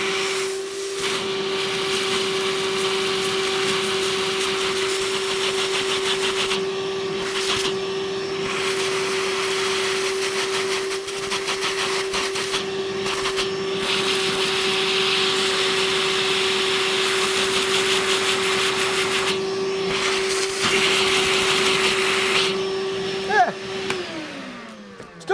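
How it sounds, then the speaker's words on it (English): A Hercules cordless shop vacuum motor runs continuously with a steady whine and airy rush, briefly muffled a few times, then spins down near the end. "Definitely not the most suction. Out of this style vacuum."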